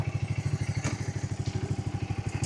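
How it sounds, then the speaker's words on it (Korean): A Segway ATV idling and creeping backward in reverse gear, its engine giving a steady, close, rhythmic mid-pitched throb with faint clatter and no talk. "아버지 한번 뒤로 후진 한번 해보실까요? 후진 기어 넣으시고."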